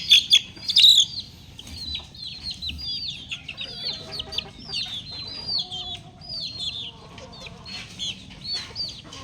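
Several chickens cluck and chatter in a busy, continuous flurry, close by, with higher chirps mixed in and no talking.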